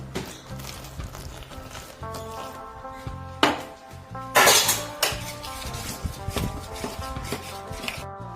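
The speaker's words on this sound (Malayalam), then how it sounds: "ഇനി കുറച്ച് ചൂടുവെള്ളം ഒഴിച്ചു കൊടുത്തിട്ട് കുഴച്ചെടുക്കാം" Maida flour dough, mixed with salt and hot water, is kneaded by hand in a bowl, making soft irregular rubbing and slapping sounds with occasional sharper knocks and clinks of a vessel, close and alone without talk.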